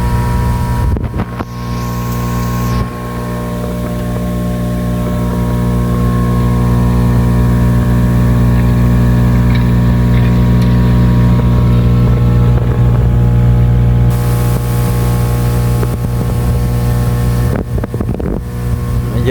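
A steady, loud air pump aerator at a concrete fish pond, a constant droning hum with strong low tones, running alone with brief bumps of handling noise.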